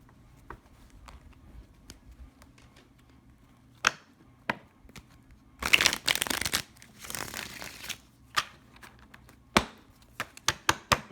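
Tarot cards are shuffled in crisp riffling bursts, with scattered sharp taps and flicks of cards handled close by, no voices.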